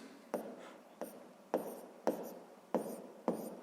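A math equation is written by hand for a sixth-grade exercise, six evenly spaced scratchy pen or chalk strokes that start with a sharp attack and then fade, close and quiet with no voice.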